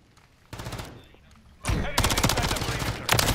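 Rapid automatic gunfire in an online multiplayer shooter game, loud bursts of fast repeated shots starting softly then swelling into sustained close firing, with a voice speaking in between.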